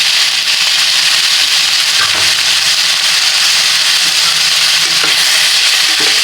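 Beef with fish sauce sizzles loudly in a pan while being stirred, a constant close hiss of frying broken by occasional utensil scrapes and knocks, with no talk.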